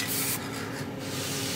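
Silver aerosol spray paint hissing onto a steampunk gauge kit gear, a steady close broadband spray that eases slightly partway through.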